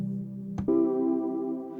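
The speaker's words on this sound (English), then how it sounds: "I found this pad that has a really nice sound from the CZV VST in the Arturia plugin" Sustained synth pad from the Arturia CZ V soft synth, a rich harmonic chord that shifts to a brighter, fuller voicing partway through and rings on steadily, heard alone without talk.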